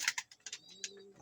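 A male pigeon in a racing loft gives short, soft coos and throaty warbles, close and fairly quiet, with a few low notes held briefly near the end.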